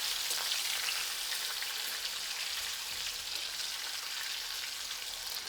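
Stuffed tomatoes filled with pressed spice mix sautéing in hot oil, a steady, fairly soft sizzle and crackle with no pauses and no talking.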